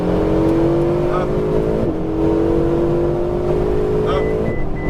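A Ferrari 488 GTB on a racing circuit at full throttle, engine note climbing steadily in pitch with sharp breaks at gear shifts, loud and close from inside the car, with a voice speaking over it.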